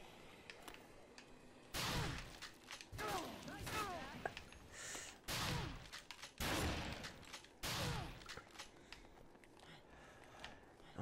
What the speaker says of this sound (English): Why are you shooting at me anyway?